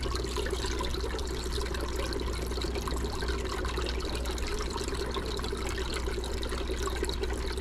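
A hang-on-back aquarium filter, a TopFin Pro Series 110, spills water into a tank with a constant, close trickling and splashing wash that holds steady throughout.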